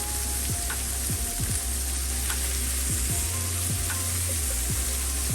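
Pepper bacon fries in a pan, a steady crackling sizzle with occasional pops and soft scrapes as it cooks, near and continuous, with no talking.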